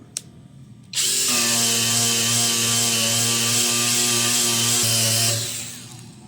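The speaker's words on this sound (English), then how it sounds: "Ingersoll-Rand brushless polisher sander" Ingersoll-Rand 20V brushless cordless polisher/sander spinning up after a click, holding a steady high whine for about four seconds, then winding down.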